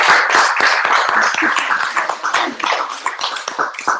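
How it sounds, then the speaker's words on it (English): An audience at an evening speaker event claps, a dense, loud burst of applause that stays steady throughout. "Can we just give a round of applause?"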